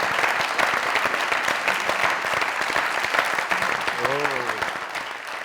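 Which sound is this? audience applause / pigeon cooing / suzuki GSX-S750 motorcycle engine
audience applause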